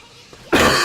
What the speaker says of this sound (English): sorry if I cough into the microphone and give a horrid noise